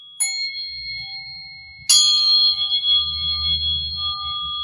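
Tuning fork struck twice, a clear metallic ping followed by a second brighter strike that rings on in a steady sustained pure tone, with faint low room rumble beneath.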